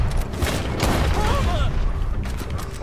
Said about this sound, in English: I hear gunshots.